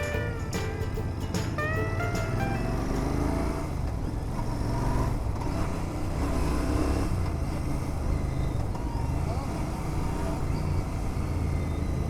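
Heavy afternoon traffic on a highway and expressway, heard from a GT650 motorcycle on a commute: a steady, loud wash of engines and road rumble with scattered horn-like tones near the start and no pauses throughout.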